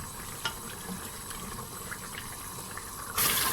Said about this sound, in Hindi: देखिए चने भून रहे हैं।